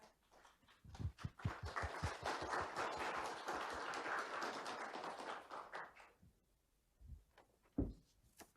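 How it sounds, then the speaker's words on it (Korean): Audience at a formal diplomatic forum opening ceremony breaks into warm applause, a dense burst of clapping that swells for about five seconds and then fades, followed by a few isolated footsteps or taps in a quiet hall. "여러분 따뜻한 환영의 박수 부탁드립니다"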